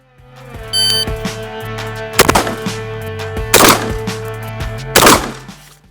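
Three sharp, loud gunshots from an AR-15 and a shotgun ring out a second or so apart, with a steady electronic tone and faint beeps humming underneath.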